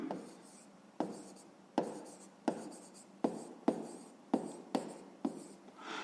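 A pen writes out a maths solution on paper at close range, nine or so distinct stroke onsets that each tail off, quiet and steady with no speech.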